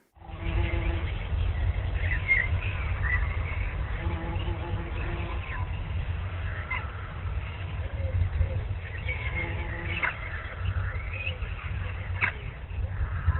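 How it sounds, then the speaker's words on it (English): Faint, scattered bird chirps come through a muffled, low-fidelity recording with a steady low hum underneath. "I hear birds chirping"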